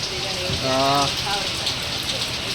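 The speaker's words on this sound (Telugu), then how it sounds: "బయటికి రాగానే వర్షం అయితే పడుతుంది" Rain falls outside Gokarna temple in Karnataka, a steady close hiss of drops on surfaces, with a voice speaking briefly over it.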